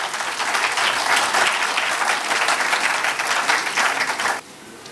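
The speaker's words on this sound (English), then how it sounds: "I want each and every one of us to give him a resounding round of applause." An audience at a 64th birthday lecture gives a loud, sustained round of applause for the celebrant, steady dense clapping that cuts off sharply just before the end.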